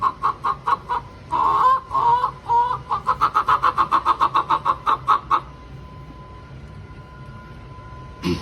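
A person imitates a hen, a burst of loud clucks building into a quick, steady run of rhythmic clucking, then a near-silent tail.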